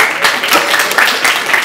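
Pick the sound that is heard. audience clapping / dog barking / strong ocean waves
audience clapping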